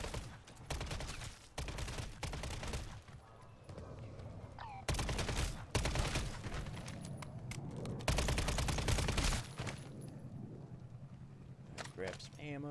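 Rapid bursts of WSP submachine gun fire from Call of Duty Modern Warfare 3 Zombies, loud and repeated in several long volleys with short pauses, mixed with game effects.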